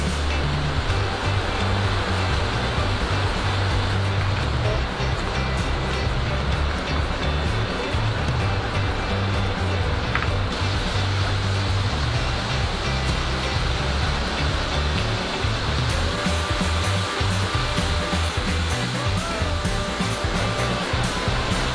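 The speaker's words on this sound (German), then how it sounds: "Wir sind jetzt beim Nidri-Wasserfall angekommen." The Nidri waterfall on Lefkada, Greece, roars as a dense, constant rush of falling water, loud and close, with no voices over it.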